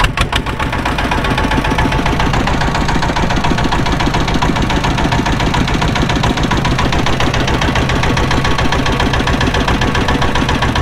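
A small riverboat's engine runs steadily on a river near a char, a loud, close, continuous mechanical drone with a rapid knocking pulse throughout and no talk.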